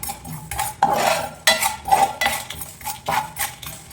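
A metal spoon scrapes and clanks against a pan while fenugreek seeds are stirred and sautéed in oil for fish curry, a series of sharp close clinks and rattling scrapes about every half second, loud and with no voices.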